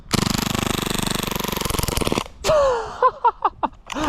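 An airsoft submachine gun fires BBs in one long rapid burst of evenly spaced mechanical clacks, then a few separate single shots, loud and close with no talking.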